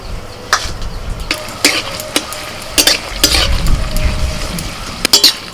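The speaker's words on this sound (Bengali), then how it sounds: "এবার কিছু শুকনো লঙ্কা আমি তেলের মধ্যে ভেজে নেব" Dried red chillies fry in mustard oil in a wok, a close, lively sizzle under repeated scraping and clattering strokes of a spatula against the metal.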